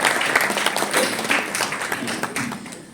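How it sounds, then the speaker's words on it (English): Audience applause at the launch ceremony of South Asia's inaugural Women's Handball League in India, a dense steady round of clapping with a few louder claps and some voices mixed in, lasting throughout. "a big round of applause for each and everybody present here."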